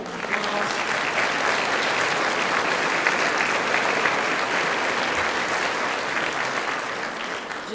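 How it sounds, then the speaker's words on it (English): A large audience at a live Teacher of the Year ceremony applauds steadily for teachers' families and friends, a dense, even wash of clapping sustained throughout with no voices standing out. "we need to give that group of people a round of applause"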